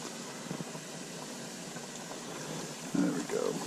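Battered red snapper frying in hot grease, a steady bubbling sizzle with a louder burst of crackling near the end.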